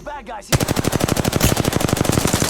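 Rapid automatic gunfire in the video game Apex Legends, a loud close burst of evenly spaced shots lasting about two seconds, following a brief moment of voice chatter.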